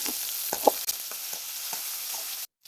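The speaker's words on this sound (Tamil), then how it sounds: "உருளைக்கிழங்கு அப்படியே ரெண்டு நிமிஷம் வதக்கிடுங்க கூடவே தக்காளி போட்டுக்கணும்" Potato, tomato and onion sautéing in a pan for capsicum rice, a steady close sizzle broken by a few sharp scraping stirs, then cutting off abruptly near the end.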